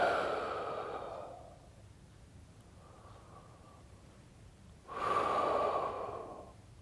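Slow belly breathing during a relaxation exercise in an office stretching routine: a long audible exhale trails off, a faint breath follows in the quiet pause, then another full, close breath swells up.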